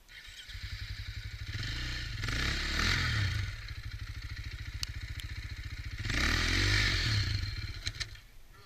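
An enduro motorcycle engine started and running nearby, a rapid buzzing putter that swells into two louder revving bursts with some clattering, steady and close throughout.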